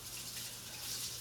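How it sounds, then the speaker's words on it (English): Peppers are dropped into a pot of boiling water, a short, continuous watery rush and bubbling close by. "you just drop them in the boiled water"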